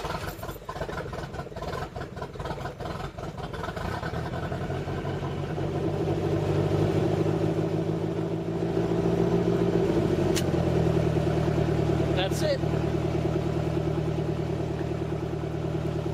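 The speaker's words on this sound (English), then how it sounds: "if you compare it to other boats, this one starts right up" An engine cranks with rattling clatter, then catches and settles into a steady running rumble that holds for several seconds.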